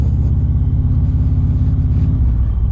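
A car rumbles past in Shawnee traffic, its engine a loud, steady low drone from close by that eases slightly toward the end, with no talking.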